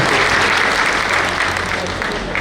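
Dense, steady applause from a large crowd at a political rally, sustained loud clapping filling the whole stretch without a break.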